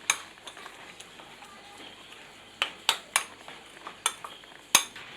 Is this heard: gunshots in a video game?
no